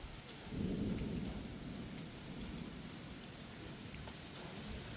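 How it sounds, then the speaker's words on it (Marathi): First monsoon rain falling in a Konkan village, a soft steady patter with a low rumble swelling early, heard faintly and alone without voices. "आजच पहिला पाऊस पडलेला आहे"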